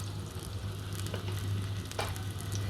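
Garlic and ginger paste sizzling and frying steadily in hot white oil in a wok, a continuous close crackle with no voices.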